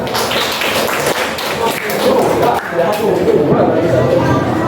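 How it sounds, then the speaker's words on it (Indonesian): Classroom applause from a group of students during a civics lesson, a dense sustained patter of clapping hands filling the room with some chatter mixed in. "Oke, tepuk tangan."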